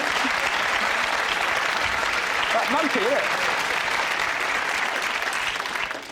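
A television panel show's studio audience applauds steadily and loudly throughout, a dense, continuous wash of clapping, with a voice briefly speaking over it partway through.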